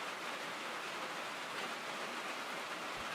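Steady, dense rain drumming on metal sheet roofing in the train game Derail Valley, a loud continuous hiss without pauses and with no voices.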